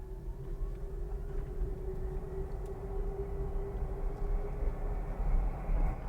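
A 2021 Jeep Wrangler 4xe plug-in hybrid drives in full electric mode, giving a steady low road rumble with a faint, sustained electric motor whine running throughout, no engine noise and no talking.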